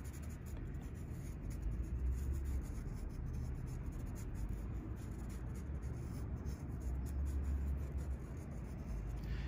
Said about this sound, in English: using your Sharpie marker, draw a happy face and go ahead and color it in